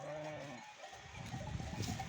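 Sheep, lambs and goats on a mountain pasture bleat in overlapping calls, with a cowbell-like clank and shuffling close by, fairly loud and steady with no talk.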